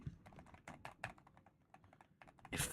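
Fast, close typing on a Wooting 80HE keyboard gives a string of soft, quiet clicks and taps in uneven bursts, ending in a brief louder clatter.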